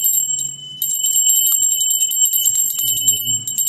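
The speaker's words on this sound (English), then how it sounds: "Let's ring our pretty little bell." A small bell rings rapidly and continuously, its bright, high tinkling steady and close, while a voice murmurs quietly beneath it.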